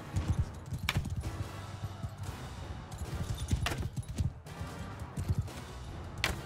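Horses gallop in a Mount & Blade battle, with hooves thudding in quick irregular runs over a busy, clashing din. Sharp cracks and impacts cut through the sound now and then.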